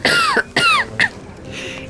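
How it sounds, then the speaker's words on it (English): A narrator reading a fantasy story aloud acts out a king's hacking cough, voicing three short, rasping bursts close up, then trailing off. "The king hacked out a cough."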